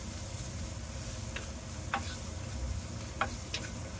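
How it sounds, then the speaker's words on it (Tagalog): Mung beans drop into a pan of sautéed garlic and onion and sizzle softly, a steady low hiss broken by a few sharp scraping clicks as the mixture is stirred. "Ilalagay na natin yung ating munggo."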